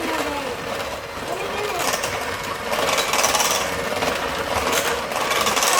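An electric hand mixer whirs steadily through oatmeal bake batter in a home kitchen, a dense continuous buzz that grows slightly louder partway through, with voices faintly present underneath.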